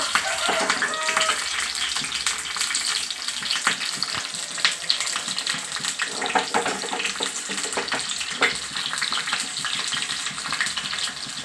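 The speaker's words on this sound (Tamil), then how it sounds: "மீன் மிளகாவை போட்டு தாளிக்க போகிறோங்க பச்சை மிளகா நல்லா பொரியுங்க" Steady, loud sizzling of green chilies frying in hot oil for tempering, a continuous crackle with scattered pops throughout and no voices.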